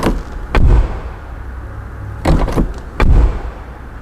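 Rear door of a 2025 Omoda 9 car being shut, three dull, muted thumps spread across a few seconds, close by with no voices.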